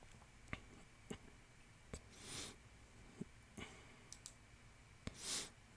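Sharp, isolated mouse clicks land at an irregular pace while someone sets up Xbox One game streaming on a computer. Two soft swishy bursts fall between them in an otherwise quiet room.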